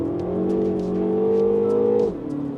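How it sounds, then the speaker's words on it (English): A turbocharged Mini Cooper S engine in sport mode on a race track pulls hard and loud with a rising, steady drone, then drops in pitch briefly near the end as the revs ease. "a nice sounding engine. And of course, being turbocharged, and we're driving it in sport mode"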